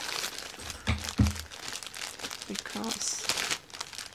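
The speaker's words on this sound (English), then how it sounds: "I have to open another bag," Crinkly plastic rustles and crackles up close in bursts as a bag is handled and opened, with a voice speaking briefly.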